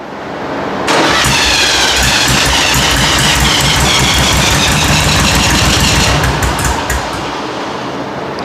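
A 40 HP VW engine in a rat rod VW truck cranks over loudly and steadily for about five seconds without catching, the starter's rhythmic churning close and continuous before it stops.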